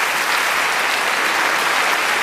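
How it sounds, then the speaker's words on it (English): Steady, dense applause from a large audience, loud and continuous throughout with no pauses. "A round of applause for both our men."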